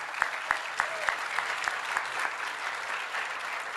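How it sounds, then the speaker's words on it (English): Scattered clapping from a modest crowd at a groundbreaking ceremony, individual claps distinct at first, then blending into a steady, moderate round of applause. "Give them a round of applause, please."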